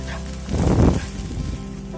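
Crushed shallots and curry leaves hit hot coconut oil with coconut pieces for a prawn roast, bursting into a loud close sizzle that swells for about half a second and then eases back to a low crackle.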